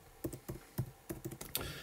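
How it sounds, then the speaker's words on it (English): Quick bursts of typing on a keyboard, about a dozen light, close key clicks in an uneven rhythm, heard alone. "I can just type in here,"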